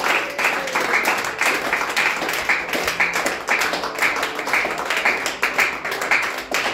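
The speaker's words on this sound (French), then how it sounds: "Acclamons le Seigneur." A church congregation claps and applauds continuously, a dense, loud mass of hand claps with a loose rhythmic pulse running throughout.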